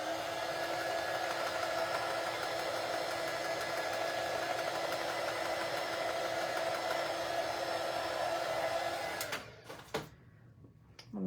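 Hair dryer blowing on wet paint on a craft cutout, a steady airy whir with a high whine for about nine seconds before it switches off into quieter rustling.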